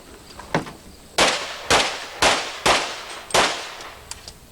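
Five sharp pistol shots ring out in an uneven rapid string during an IPSC practical shooting stage at the 1989 USPSA National Championships, loud and close, with a fainter report just before them.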